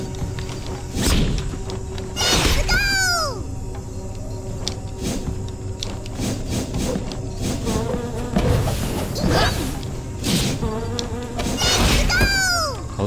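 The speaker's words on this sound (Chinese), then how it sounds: "好吵啊，死蚊子！" Mosquitoes buzzing in the poison swamp stage of the video game Seijo no Uta Zero, loud whining drones that repeatedly swoop up and down in pitch over a steady game soundtrack, with no talking.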